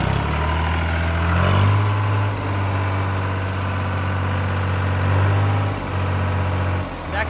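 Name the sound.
CASE JX 50 T tractor engine idling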